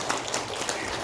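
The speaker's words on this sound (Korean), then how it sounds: "박수는 막 치네." A church congregation claps during a sermon, a close, dense patter of many hands in a brief burst with no speech over it.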